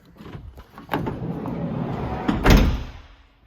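Rear triple bench seat in a 2021 Volkswagen Transporter T6.1 Kombi conversion folding in half on a cord pull, giving a sequence of close mechanical clunks and rustles that ends in a louder thump before fading.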